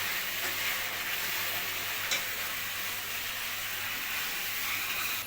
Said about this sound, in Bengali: দিয়ে দিচ্ছে ছানার কোপ্তাগুলো, সব এক এক করে দিয়ে এই গ্রেভির মধ্যে দিয়ে দিল